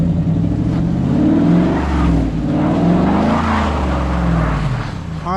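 A 2014 Dodge Charger R/T drifts sideways through snow. Its engine roars and revs steadily and loudly throughout, with wavering pitch as the tires spin, and no voices are heard.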